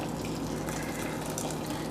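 Boiling water from a microwave is poured into a shallow bowl of dry aquatic turtle gel food mix, a steady close gushing splash lasting a couple of seconds.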